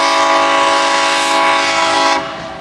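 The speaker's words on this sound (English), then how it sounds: "That's not the train I was worried about, but that's a good train. Loud horn." A short train passes close by, its loud horn blaring in one long sustained blast over rumbling wheels before cutting off near the end.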